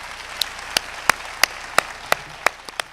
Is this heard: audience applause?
yes